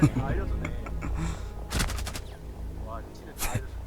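Suppressed gunfire in a tactical shooter game, with a quick burst of several sharp muffled shots near the middle and another single crack later, while players talk over it.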